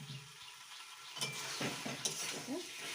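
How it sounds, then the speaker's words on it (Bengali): Spice paste is stirred into chicken in a hot pan, with soft scraping and clinks of a spoon against the pan over a low background sizzle. "মশলাটা খুব ভালোভাবে আমি চিকেনের সঙ্গে মিশিয়ে নেব।"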